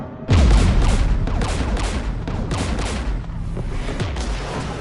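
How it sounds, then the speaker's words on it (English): Sustained barrage of gunfire and heavy booms in the sci-fi shooter Mass Effect, a loud opening blast followed by dense overlapping shots and explosions that stay thick and forceful throughout, with no talking. "We're taking fire."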